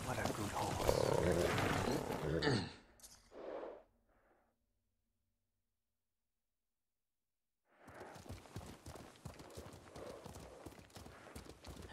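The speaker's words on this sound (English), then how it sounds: "What a good horse." Horse hooves galloping in the Ghost of Tsushima video game: loud, dense hoofbeats that fade out, then a few seconds of silence before the rapid galloping returns at full strength.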